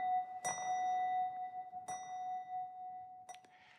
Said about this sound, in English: just a very simple desk bell, creating a little repeated iterative propulsion that takes us through the cue.